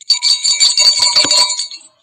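A quiz-show buzzer chimes out the Jingle Bells melody in a bright, bell-like run of tones, close and clear, lasting about two seconds before stopping.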